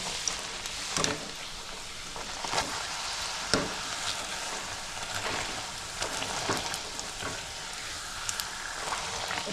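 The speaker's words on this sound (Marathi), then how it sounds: "तेल आपलं गरम झालेलं आहे त्याच्यामध्ये आता पुरी घालते तळायला" Coconut puri frying in hot oil gives a steady, soft sizzle with crackling bursts and light stirring, heard alone without talk.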